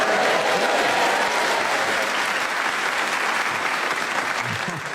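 A studio audience at a radio panel game bursts into loud, dense applause, a thick continuous wash of clapping that stays strong and then tapers slightly toward the end.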